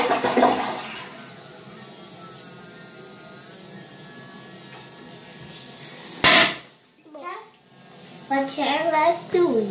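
A household toilet flushes with a loud, continuous rush of water for several seconds, followed by a sharp clack and then a child and an adult talking nearby.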